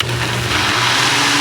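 A kitchen blender whirs loud and steady, blending purple juice and coconut juice into a thick smoothie, with no talk over the motor.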